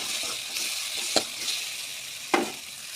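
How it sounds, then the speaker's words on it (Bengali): Spice masala of ground cumin paste and salt frying in a wok for a rohu fish head and potato curry, with a steady hiss and a few sharp scraping clicks as it is stirred, close and with no talk. "দিয়ে নাড়াচাড়া করতে থাকবো।"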